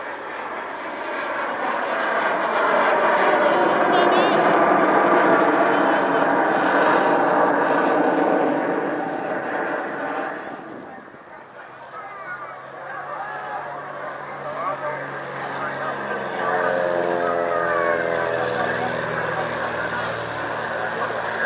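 A display aircraft climbs steeply at the Bray Air Show, its engine roaring loud and steady before fading and returning more distantly, while a commentator speaks over a public address system.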